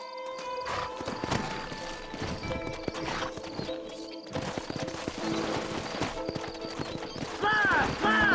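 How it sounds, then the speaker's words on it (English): Horses gallop and whinny in the Red Dead Redemption video game, rapid clip-clopping hooves with neighs rising near the end amid game sounds and a voice. "Horses are over here!"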